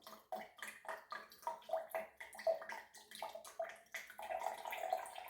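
Water running into the tank of a multi laser IPL/SHR/YAG machine during filling, a soft gurgling, splashing flow with rhythmic bubbling pulses, faint and close, no talk over it.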